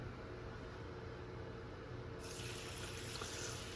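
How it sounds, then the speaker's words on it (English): Water pours into dry rice in a large mixing bowl, making a steady rushing trickle that swells into a louder, brighter splash partway through. It is fairly faint and there is no talk. "And we'll pour in the water."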